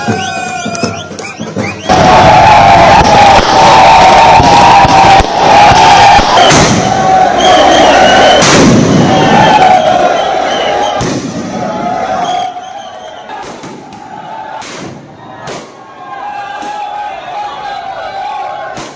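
Cricket fans celebrate India's T20 World Cup final win over South Africa with a loud, dense crowd roar and sharp firecracker bangs. The noise peaks early, then fades into scattered pops, and voices can be heard throughout.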